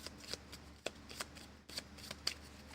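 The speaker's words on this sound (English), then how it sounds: "So we're gonna put it in the pile here and shuffle it in" A deck of cards being shuffled during a live tabletop board game session, with several crisp riffling bursts and light clicks repeating across the clip, close and fairly quiet with no talking.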